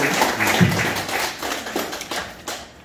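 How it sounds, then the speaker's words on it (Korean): A small church congregation claps after a musical performance, scattered hand claps that swell briefly and then thin out, close and moderately loud. "뜨거운 박수 부탁드리겠습니다"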